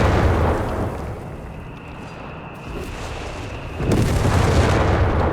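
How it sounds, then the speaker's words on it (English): Artillery double barrage in Company of Heroes 3, rendered as rolling, overlapping explosion rumbles that ease briefly and then swell again with a fresh heavy burst, loud and continuous. "Double barrage there."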